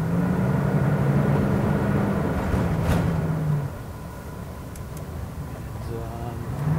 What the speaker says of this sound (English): we're getting on the highway here with this 1992 Elante 37RQ